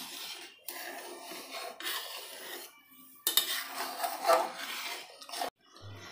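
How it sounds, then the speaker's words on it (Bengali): Thickening milk being stirred in a pan over high flame while making kalakand, a close, rasping scrape of a utensil against the pan bottom in repeated strokes with short pauses. "দুধটা এইভাবে করেই নেড়ে যেতে হবে।"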